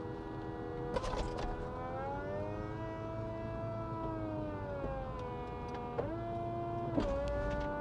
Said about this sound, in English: Let's actually put the top down first, because I definitely want to drive with the top down.